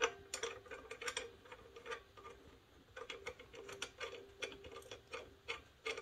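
A socket ratchet clicks rapidly and rhythmically while turning a bolt on the kickstand of a Ct70 clone minibike, close and fairly crisp, in short bursts with brief pauses.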